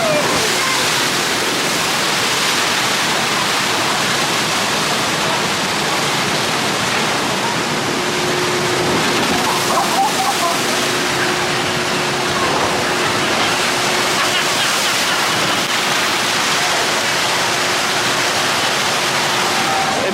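Rushing water of a log flume ride at Hersheypark pours in a dense, continuous wash that holds steady and loud from start to finish, with faint background voices mixed in.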